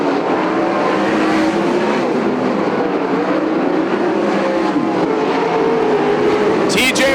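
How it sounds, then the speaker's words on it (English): Sprint cars race around the Sunset Speedway Park oval in a Western Sprint Tour event, engines droning loud and continuous as the pack circles, with a race announcer talking over the roar throughout. "No issues for your top 3 competitors as it's 4 laps to go for Tyner."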